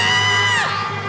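A studio audience at a televised singing-contest variety show cheers loudly, with high whoops and shouts blending into a brief, close burst of crowd noise.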